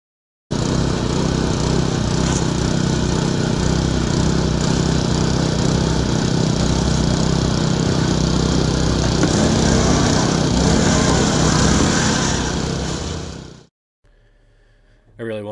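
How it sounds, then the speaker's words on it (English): Landscape curbing machine pumping and extruding concrete curb around a boulder, a loud, steady engine drone with rhythmic pumping that runs close and unbroken for about thirteen seconds before cutting off abruptly. "I really wanted you to kind of hear how this machine pumps"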